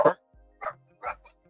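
A dog barks three times in short, loud bursts, with a low whine between barks, at close range in an indoor room.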